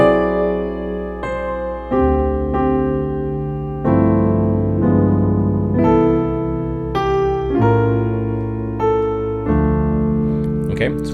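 Jazz-style piano chords for a song, played slowly with sustained block chords changing every second or two, close and clear with no talking.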